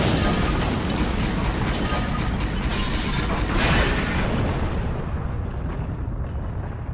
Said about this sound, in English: So who just fired all those cannons?